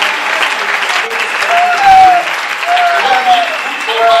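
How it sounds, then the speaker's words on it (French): Congregation applauding in a church, giving sustained, steady clapping throughout, with voices shouting and cheering over the applause. "Acclamez encore plus de temps."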